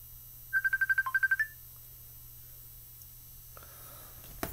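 A phone rings nearby with a loud electronic ringtone, a quick burst of about nine evenly spaced tonal pulses ending in a short rising note, followed by quiet room hum.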